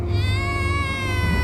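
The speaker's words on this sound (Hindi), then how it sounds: "बच्चे की रोने की आवाज़ लगातार आए जा रही थी।" A baby wails in one sustained, close cry that carries on without pause.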